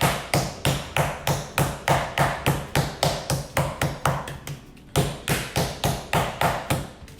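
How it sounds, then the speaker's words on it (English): A meat mallet pounds a pork loin flat and thin on a board, striking in a steady, even rhythm of sharp, close thuds, about three per second, with one brief pause midway. "What we're doing is pounding it until it's flat and thin."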